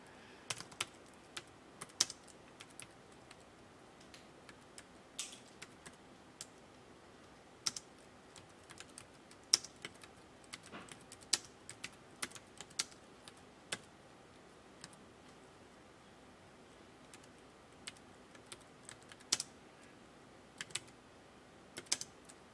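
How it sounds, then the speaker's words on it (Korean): Typing on a computer keyboard, sparse quiet clicks and key taps scattered irregularly through a long, otherwise silent stretch, with an occasional firmer keystroke. "엔터 치고요. 탭 키 한번 눌러서 들여쓰기 하겠습니다."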